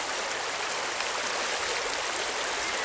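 Steady rushing of a nearby river during a nature walk, a continuous broadband wash of flowing water with no voices.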